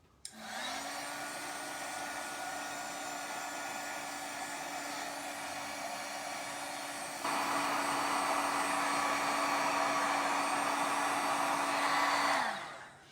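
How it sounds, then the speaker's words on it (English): Heat gun drying freshly applied paint on a craft project, a steady close blowing whir that switches on, runs for about twelve seconds, grows louder partway through, then spins down, with no talk. "I'm just going to give this a little shot with the heat gun"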